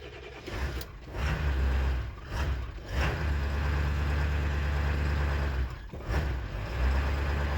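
A 1999 Ford 7.3 Powerstroke diesel idles roughly on a cold morning, a loud, close, continuous low rumble with uneven surges and dips in its rhythm, no talking.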